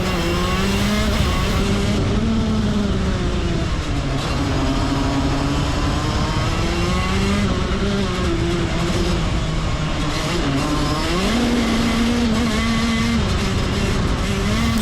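A racing kart engine pushed flat out around the Forest Edge track on cold tyres, a loud close continuous buzzing drone whose pitch climbs and drops as it revs through corners.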